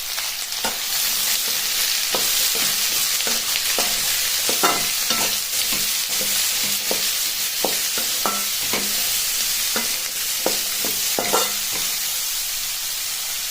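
Urad dal, garlic and onion frying in a pan while being stirred, a steady close sizzle with repeated scraping strokes of the spoon throughout.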